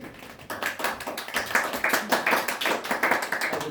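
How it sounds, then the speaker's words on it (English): Audience applause welcoming a guest lecturer to a talk on the medieval Fenlands, a dense wash of many hands clapping close by that builds after a brief start and holds steady, with no voices over it. "I would save the applause till you've heard it."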